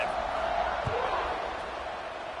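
A stadium crowd at a BYU vs Cal college football game roars in a steady, distant wash of noise during a kickoff, under a commentator's voice.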